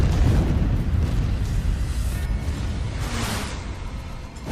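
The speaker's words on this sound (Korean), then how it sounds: "폭발로 잠수함이 심하게 요동쳤고" A 450 kg aerial bomb bursts against the Japanese submarine I-70 in a World War II attack, a loud, sustained roaring blast with heavy low rumble that slowly fades over several seconds.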